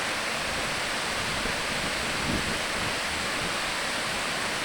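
Upper Falls on Crabtree Creek, the highest and largest drop coming off Pinnacle Ridge in a mountain gorge, heard from above as a loud, steady broadband rush of falling water with no break.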